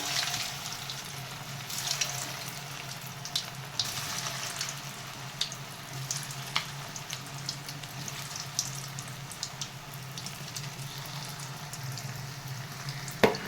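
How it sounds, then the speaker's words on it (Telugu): Small potato snacks fry in hot oil on a stove turned low, a quiet steady bubbling sizzle with scattered soft pops and crackles and no voices. "ఆయిల్ వేడైందండి, చిన్నగా వేసుకోండి. వేసుకునేటప్పుడు స్టవ్ సిమ్లో పెట్టుకోండి."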